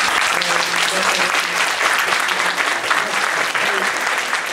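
Applause from a conference audience fills the room, dense and steady clapping from many hands, loud and continuous throughout with a murmur of crowd beneath.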